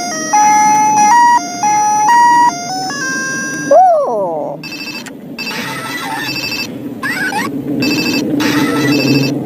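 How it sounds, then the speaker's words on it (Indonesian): A Hello Kitty toy telephone plays loud, bright electronic ring tones in repeating bursts, shifts into a sweeping siren-like wail, then carries on with more chirpy beeping melodies close up. "Ada telepon Hello Kitty."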